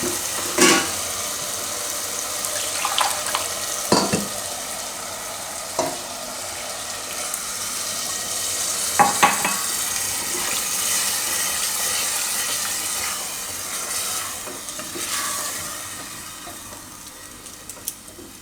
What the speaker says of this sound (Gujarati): હવે આમાં આપણે પાણી નાખી દઈશું